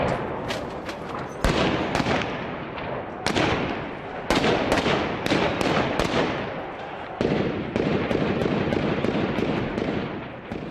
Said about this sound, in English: But the heavy gunfire showed that the rebels were still fighting back.